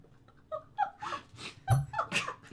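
A man vocally imitates a dog barking, giving a run of several rough, breathy bark-like yelps in quick succession, fairly close and moderately loud.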